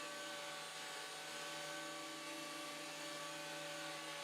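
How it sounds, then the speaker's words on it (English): A power planer running continuously on a wooden board, a steady dense whine and rushing hum with a few tonal lines, even in level throughout with no breaks and no voices. "Flip it over and plane the other side."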